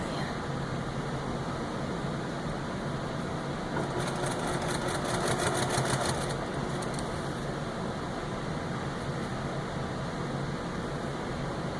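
A domestic sewing machine hums steadily while stitching stocking binding close to the edge, a low continuous motor drone with a brief burst of faster needle chatter in the middle, no talking.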